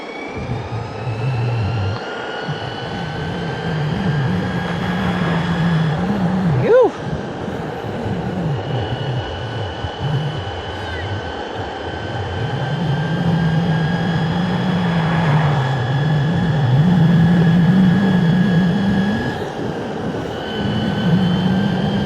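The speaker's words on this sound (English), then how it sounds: "Top speed test on the ACEDECK Stella Blizzard." An ACEDECK Stella Blizzard electric skateboard on 85mm wheels runs at top speed up a slight hill, giving a steady loud drone of wheel roar and whining motor tones, with a brief bump partway through.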